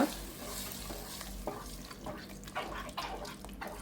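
A spoon stirring okra curry with yogurt in a pan over low heat, making soft scraping and wet shuffling strokes over a faint bubbling hiss. Close and fairly quiet, with no talk.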